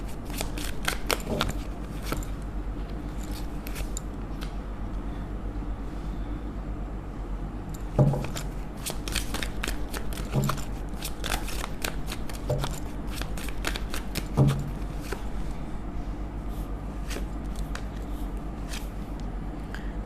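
Tarot cards shuffled and drawn from a deck at close range, soft riffling with crisp slaps and flicks recurring over a quiet room tone, no talk over it.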